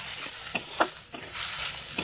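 Potatoes and bitter greens stir-fry in a home kitchen pan, a soft continuous sizzle broken by several sharp scraping strokes of the spatula, close and fairly quiet.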